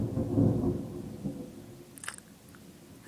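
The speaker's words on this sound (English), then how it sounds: "Here comes the thunder again." Low thunder from a passing thunderstorm rumbles softly in the distance, a swelling roll near the start that fades away, followed by faint small clicks and rustles close by.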